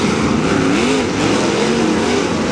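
Dirt late model race car engine moving through the pit area at a World of Outlaws Late Model event, a loud steady roaring drone with slight rises and dips in pitch, no talk.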